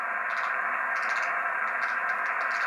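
Steady hiss of radio static on a ham radio receiver with a magnetic loop antenna and noise canceler fills the air, constant and fairly loud, with faint ticking and fluttering blips drifting through it.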